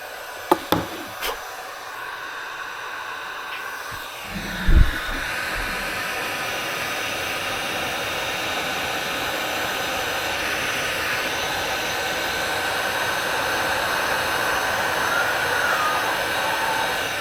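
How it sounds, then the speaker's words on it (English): Heat gun blowing hot air onto a rusty belt buckle, a steady close whooshing roar that runs throughout after a few light knocks and clicks at the start. "we're going to hit that with some heat and see what happens"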